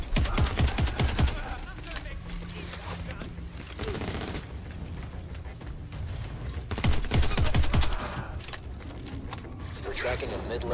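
Bursts of rapid gunfire from a weapon in a video game, loud crackling volleys near the start and again around seven seconds, with a player talking over the shooting in between.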